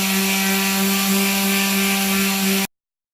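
A power sander runs steadily on the aluminium hull of a Sea Nymph 14R boat, a loud, constant whirring drone with a strong tonal hum that cuts off abruptly near the end.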